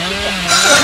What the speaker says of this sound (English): I feel like he's just trying to play a song with his chainsaw.